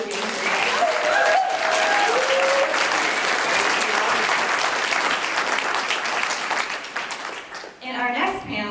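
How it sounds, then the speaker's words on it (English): Sustained applause from a conference audience for a panelist at a youth climate policy event, loud and steady for about seven seconds before thinning out, with a few voices rising near the end. "could we please give him a round of applause for being here today?"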